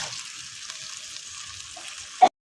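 Potatoes frying in a spice paste for a fish curry, a soft steady hiss of frying that ends with one sharp clank before cutting to silence, no talking.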